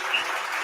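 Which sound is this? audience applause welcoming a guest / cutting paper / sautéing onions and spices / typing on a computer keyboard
audience applause welcoming a guest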